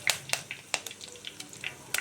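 Curry leaves crackle and spit in hot oil with urad dal and mustard seeds in a clay pot, tempering for ulava charu; sharp irregular pops and sizzles sound close by over a low frying hiss.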